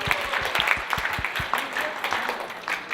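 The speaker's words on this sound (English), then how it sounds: "give yourselves a round of applause" Meeting participants applaud together, a brief burst of clapping from a modest group, close by, with voices mixing into the claps.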